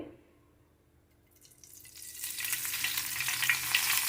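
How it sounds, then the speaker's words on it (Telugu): Quiet at first, then a bright hissing sizzle of oil and tempering seeds in a pan swells up and holds steady, close and growing louder. "ఆయిల్ వేసిన తర్వాత పోపు పెట్టుకోవాలి తాలిం గింజలు వేయాలి"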